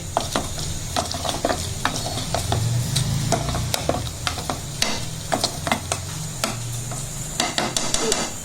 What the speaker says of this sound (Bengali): খুব ভালো করে নাড়াচাড়া দিতে হবে যাতে সব জায়গায় ডালটা মিশে যায়